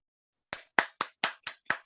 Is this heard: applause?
yes